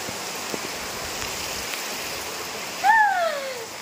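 Heavy rain pours in a steady, even hiss throughout, with a brief sharp chirp cutting in near the end.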